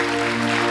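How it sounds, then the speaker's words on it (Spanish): Brief burst of steady applause from a church congregation during an evangelistic sermon, dense and continuous throughout, with a faint tonal hum underneath. "Dale un fuerte aplauso a Jesús."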